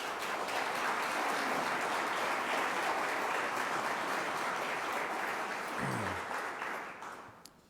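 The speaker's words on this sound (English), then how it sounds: "please give them a round of applause." Audience applauding Onondaga County employees at a county budget presentation, a steady dense wash of clapping from a large room that holds for several seconds before tapering off at the end.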